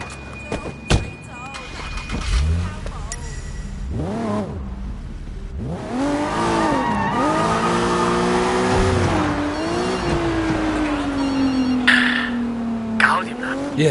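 A car in Sleeping Dogs revs and accelerates loudly, its engine note climbing and sweeping through gear changes, with tires squealing and skidding in long sustained stretches near the mic and a few sharp impacts early on.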